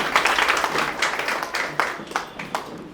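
A crowd applauds as a new achiever walks onto the stage, a sustained wash of clapping with some sharper individual claps, fairly close and continuous for the whole stretch.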